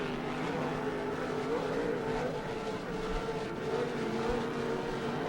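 Offshore racing powerboats competing in the 2006 OSS World Championship produce a steady, droning engine roar that holds at a constant level throughout, with no talking.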